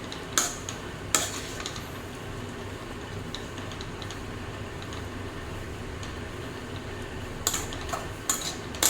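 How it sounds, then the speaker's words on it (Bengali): Sweet vermicelli pulao stirred in a pan with a spoon, giving a soft, steady scraping texture punctuated by a few sharp metallic clinks of utensil against pan, with no talking. "তার কারণে আমি বারবার নাড়ছি"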